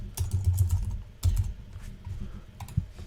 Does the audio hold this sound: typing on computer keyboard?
yes